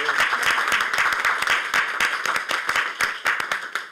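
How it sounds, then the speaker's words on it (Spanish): A modest group claps at a municipal council meeting, with individual hand claps distinct within an uneven, lively patter that continues for a few seconds. "un aplauso para cada uno de ustedes"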